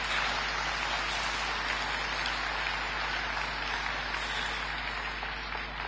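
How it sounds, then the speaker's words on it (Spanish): An audience at an agricultural association's anniversary celebration applauds in a steady, fairly faint patter of clapping that continues evenly for several seconds, with no talking over it. "Un aplauso para todos ellos."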